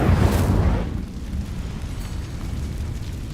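The Incendio fire spell is cast in Hogwarts Legacy: a loud, deep whooshing burst that erupts at once, then fades into a lower, lingering roar.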